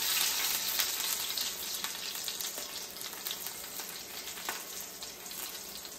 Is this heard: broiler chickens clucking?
no